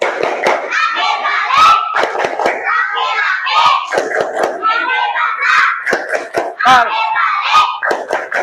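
Children's voices chant together in Indonesian while hands clap in quick patterned bursts during a classroom clapping game, a lively group call-and-response with thumps mixed in.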